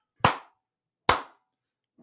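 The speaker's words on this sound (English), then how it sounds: "I'm gonna do a clap real quick just for the editor" Two sharp, isolated hand claps about a second apart, close and crisp, each with a quick decay into silence, made as an edit sync marker during a sales podcast interview.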